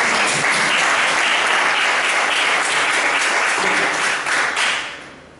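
A conference audience at a free-software talk breaks into dense, sustained applause that tapers off and fades out near the end.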